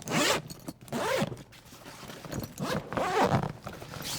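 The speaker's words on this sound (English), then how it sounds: "Once you have your tools, unzip the bag" Repeated zipper pulls on a wheeled duffel bag, a series of quick rasping zips in bursts, close up and fairly loud, with no talking.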